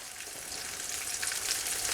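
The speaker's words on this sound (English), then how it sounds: "So we'll let that cook and sizzle for, a good 2 minutes" Steady crackling sizzle of pork schnitzel frying in hot oil in a pan, close and fairly quiet, with no voices.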